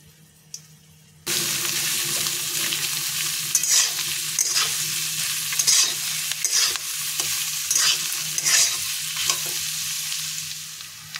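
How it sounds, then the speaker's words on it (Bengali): Onions dropped into hot oil already holding dried red chilli, cinnamon, cumin and bay leaf burst into a loud steady sizzle after a quiet start, with repeated scraping stirs and spatula clatters close by. "এইবার পেঁয়াজ দিয়ে দেবে।"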